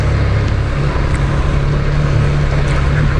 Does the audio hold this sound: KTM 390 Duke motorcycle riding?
yes